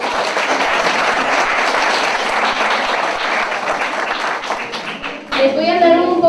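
Sustained applause from an audience at a research forum, dense clapping filling the room for several seconds before a voice begins speaking in Spanish near the end.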